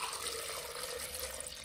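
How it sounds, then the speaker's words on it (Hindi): Two glasses of water are poured into a mixer jar holding amla, a faint, continuous splashing stream that stays steady throughout with no talk. "इसमें हम डालेंगे 2 गिलास पानी"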